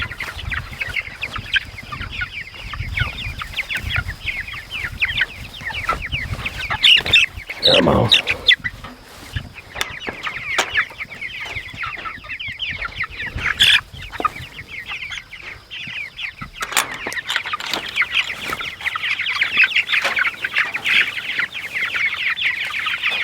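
Farmyard chickens cluck and chatter continuously and fairly close, with overlapping calls and a short spoken phrase in the middle.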